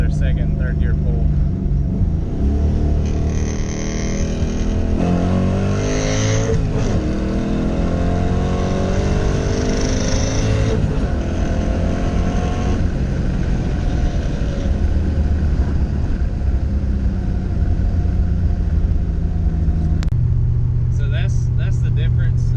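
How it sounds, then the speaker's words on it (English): A Ford Mustang GT 5.0 V8 with Trickflow heads and a Lunati cam accelerates hard through second and third gear, a loud rumbling roar rising in pitch, dipping at the shift, then climbing again. "I'm gonna do another second and third gear pull."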